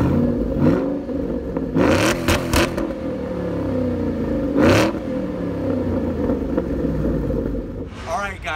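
A 2011 Ford Shelby GT500 engine starts and revs in several loud bursts, rising and falling over a low idling rumble, with a voice speaking briefly at the end.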